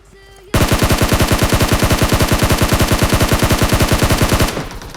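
A long, loud, rapid automatic weapon burst in PUBG Mobile on the Erangel map, steady evenly spaced shots close up that start abruptly and stop after about four seconds.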